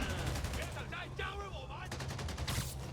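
Gunfire from armed enemies in the Marvel's Spider-Man video game: rapid bursts of shots run steadily through the clip over a dense game mix of music and effects, with a brief lull in the middle.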